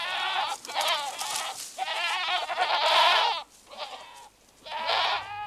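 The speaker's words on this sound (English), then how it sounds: "Goats let loose in the forest are very destructive, browsing just about anything they can reach." Domestic goats loose in a Madagascar forest give a run of loud, close bleats, five or six wavering calls one after another with brief pauses between them and no talk.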